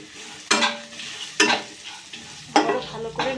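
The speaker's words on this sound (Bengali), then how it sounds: "আরো ভালো করে নাড়াচাড়া করে নেব। দেখুন, মশলাগুলো কষানো হয়ে গেছে।" Turmeric and ground coriander spices being stirred and fried in a pan for sambar: three distinct scraping strokes of a spoon over a soft, steady sizzle, close and moderately loud.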